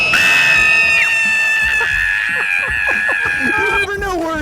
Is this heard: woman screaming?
yes